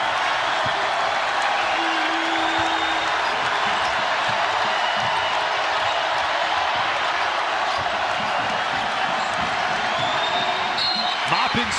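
A women's college basketball crowd at an Iowa versus Nebraska game roars in a steady, loud wash of cheering that fills the arena, with a commentator talking over it.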